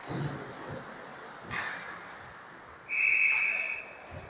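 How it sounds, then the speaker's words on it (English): A referee's whistle gives one sharp, shrill blast lasting under a second at an ice hockey game, standing out against the muffled background noise of the rink. "Whistle blows."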